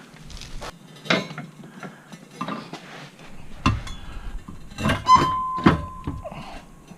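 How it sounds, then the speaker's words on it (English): Metallic clinks and ratcheting clicks in short irregular bursts while front bolts are fitted for a trailer hitch on a Buick Envision, close by and fairly quiet. "What I'm going to try to do is get this in and put these front bolts in first."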